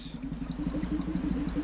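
Boat propellers spin in a video game, giving a low, steady, throbbing engine-like drone with a fast regular pulse throughout.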